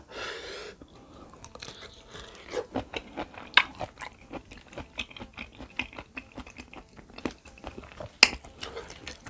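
Fresh shrimp dipped in fish sauce being eaten close to the mic, wet crunchy bites and steady chewing in an irregular rhythm, with several sharper crunches standing out and no talking.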